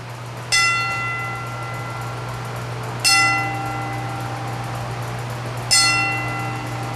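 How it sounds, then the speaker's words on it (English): A bell rings three times in tribute to firefighters at a wrestling event, with evenly spaced, clear metallic strikes that each ring out and decay over a steady low hum. "the bell rings 3 times to tribute their service"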